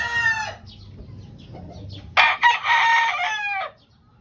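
A gamefowl stag rooster crows loudly and close, a short call followed by a second, fuller crow, with soft background clucking and farmyard noise between.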